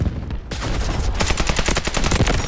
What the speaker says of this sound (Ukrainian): МК взагалі по-іншому стріляється